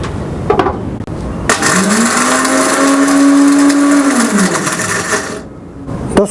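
A grinder jar whirs loudly as it grinds roasted spices for seekh kabab masala, running in one steady burst of several seconds that rises in pitch as it spins up and then winds down, with no talking.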